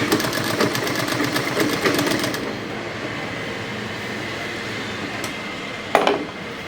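A sewing machine stitching a churidar runs in a steady, rapid mechanical chatter, close and fairly loud, its needle rhythm clearer at the start before settling into a continuous hum, with a brief click near the end.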